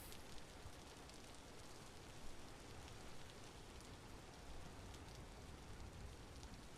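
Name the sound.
rain falling in the video game Vintage Story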